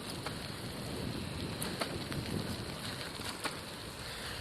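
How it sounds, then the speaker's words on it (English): Steady rain falling on a Toronto street on an October evening, a dense even hiss of drops on pavement and surfaces throughout with a few sharper nearby drips, no voices. "And the rain continues."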